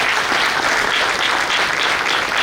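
Dense, loud applause from an auditorium audience responding to a recited poem, sustained without a break through the whole moment and with no voices over it.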